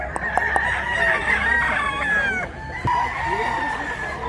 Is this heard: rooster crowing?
yes